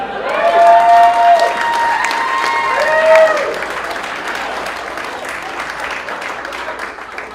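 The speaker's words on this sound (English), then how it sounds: "Keaton McAdams, everybody, clap your hands for him!" Comedy club audience applauding after a stand-up set, with dense clapping and some cheering. The clapping is loudest at the start and fades to a steadier patter, while a voice talks over it.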